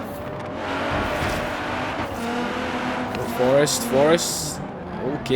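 A 565-horsepower 2017 Nissan GT-R races around a circuit in Forza Horizon 3, its engine droning steadily with rising revs and gear changes, under excited talk from a player.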